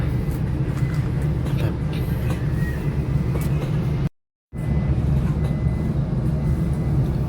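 Turangga passenger train pulling out of Cipendei station, heard from inside the carriage as a steady low rumble of wheels and running noise, loud and continuous, with a brief dropout partway through.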